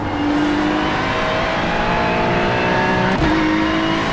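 A Porsche race car in a Nurburgring 24 racing game roars steadily at high revs with a sustained engine tone, a brief gear shift or passing dip near the end, loud and close with no talk.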